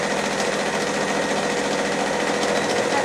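A sewing machine runs a continuous, steady, close stitching hum while reinforcing the seam of a fabric shopper bag, with no voices.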